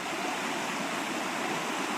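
River swollen after light rain, water rushing steadily in a dense, continuous roar with no pauses, close and loud, no voices.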